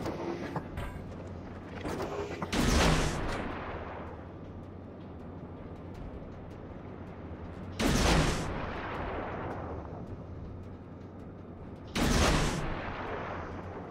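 Three loud, booming torpedo impacts from a Japanese Fubuki tier 8 destroyer in World of Warships, each a heavy blast with a rolling decay, spaced several seconds apart over a steady background rumble.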